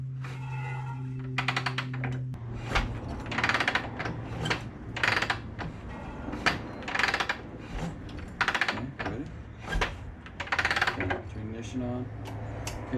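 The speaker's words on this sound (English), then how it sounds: "Let's kick it through a couple times" A '70s chopper motorcycle engine is kicked over without firing, giving a rapid run of close mechanical clicks and clunks, while people talk.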